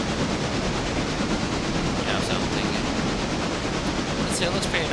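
Continuous rolling rumble of a train on tracks in a railroad video game, dense and steady throughout, with faint rhythmic clatter and a few brief high squeaks near the end.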